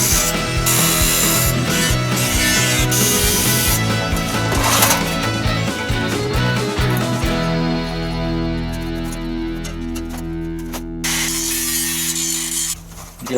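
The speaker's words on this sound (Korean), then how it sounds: "이대로 커팅할 겁니다." Continuous, loud, harsh metal cutting while building a homemade camping wood stove from sheet metal, with a grinding, rasping tone close by that lasts the whole time and shifts character partway through.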